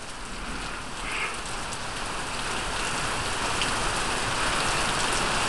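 Heavy rain pours down steadily and loudly during a thunderstorm in Chippewa County, Michigan, a dense continuous wash of drops hitting surfaces close by with no talk.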